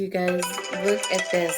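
A phone notification tone rings out in sustained, steady pulses, overlapping with a person talking close to the mic.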